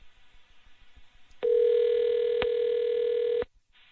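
A phone call rings out unanswered, one long, loud electronic ringback tone lasting about two seconds and then cutting off, with faint murmurs before it.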